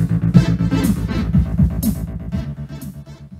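An AdLib MCA replica sound card in an IBM PS/2 Micro Channel computer plays a short FM synth tune, loud, with bouncy bass notes and bright bursts in quick rhythmic succession, no voices.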